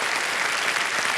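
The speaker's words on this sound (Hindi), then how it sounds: "तालियां बज जाए उनके लिए।" Studio audience on a televised quiz show claps steadily, a dense, continuous wash of applause sustained at even loudness throughout, with no voices over it.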